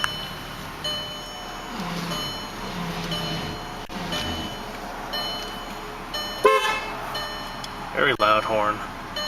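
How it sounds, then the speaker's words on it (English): A 2005 Volkswagen Jetta 2.5 sounds its horn in a couple of short, loud honks near the end, after a stretch of faint background noise with some talking. "Very loud horn."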